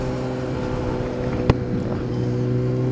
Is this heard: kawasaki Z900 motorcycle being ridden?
yes